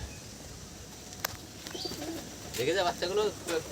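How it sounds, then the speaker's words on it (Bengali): Pigeons at a loft coo in soft, repeated bursts toward the end, with a brief sharp click earlier and a faint background hiss. "এই যে পায়রা দেখুন নিচে কটা আছে পায়রা"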